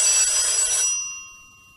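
A telephone rings loudly and close in a German crime radio play, with a bright, rapid bell trill that stops abruptly and leaves a fading ringing tail.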